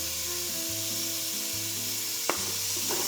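Onions sizzling in sun-dried tomato oil in a hot pan, a steady loud frying hiss with a brief scrape of stirring.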